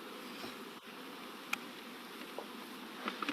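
Honey bees drone in a steady, low, continuous hum around opened beehive frames, heard at a moderate distance with a few faint clicks and taps over it and no talking.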